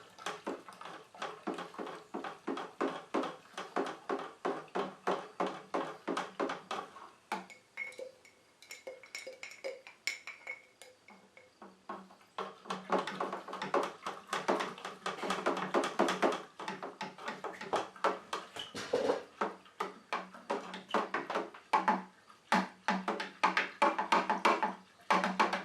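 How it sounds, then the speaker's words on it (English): A spoon stirs fining agent into hard seltzer inside a fermenter, producing rapid, continuous rhythmic clinks and scrapes against the vessel, with a short quieter pause midway and no voices. "give it a good stir for a while."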